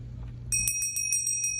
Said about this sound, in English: when you hear the bell, you stop and put your hands on your head